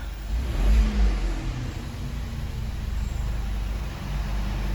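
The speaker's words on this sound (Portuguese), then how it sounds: "Vou dar uma acelerada no carro para ver se vai mudar o comportamento dela aqui" A VW Virtus car engine is revved during a fuel-tank pressure and canister check, a steady low mid-range engine drone that swells briefly near the start and holds on, no talk.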